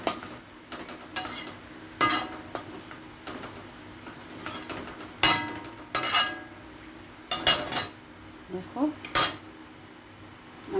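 Cooked food, a dish of pumpkin with dhenki greens, is tipped from a pan into a metal plate, with repeated close clanks and scraping clinks of metal on metal.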